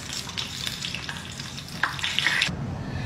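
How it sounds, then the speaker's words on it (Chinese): Soybean hornworm larvae caught from a vegetable garden deep-fry in hot oil, giving a close, continuous sizzle and bubbling hiss with a few sharper crackles and pops, and no voices. "今天咱们专门从菜园子里边捉的大豆虫炸一个"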